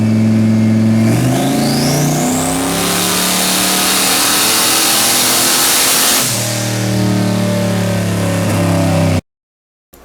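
Car engine on a dyno revving hard from low speed up toward 5,000 RPM, a loud rising roar that lifts off, dips, then climbs again before cutting abruptly to silence.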